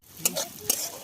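Chopped onions fry in a pan during outdoor picnic cooking at Luhakote dam, with two brief scraping stirs over a faint, steady sizzle.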